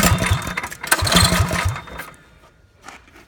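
A Predator 212 small engine fitted with a Tillotson carburetor sputters and chugs on choke while starting, catching in uneven bursts for about two seconds before fading to quieter, intermittent putters.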